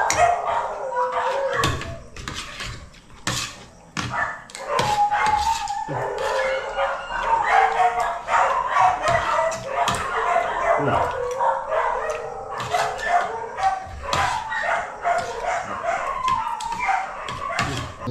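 Dogs, including a wild dog, bark and howl repeatedly in irregular bursts, with people talking over and between the calls.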